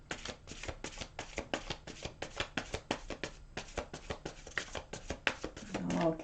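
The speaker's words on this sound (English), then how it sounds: "Okay, one more shuffle." Tarot and angel cards are shuffled by hand in a quick, steady run of crisp riffling slaps, close and fairly quiet, with faint soft speech near the end.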